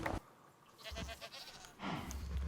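Goats in a hardcore Minecraft-style survival world bleat in short wavering cries, one near the start and more toward the end, over faint ambient background.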